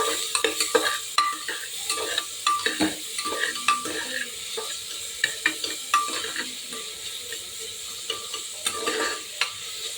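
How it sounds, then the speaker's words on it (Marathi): Finely chopped onion frying in hot oil while being stirred, a steady close sizzle broken by frequent scraping clacks of a spoon against the pan, with no voices. "तेल गरम झालं की त्यामध्ये बारीक चिरून घेतलेला कांदा घालायचा. तो चांगला परतवून घ्यायचा."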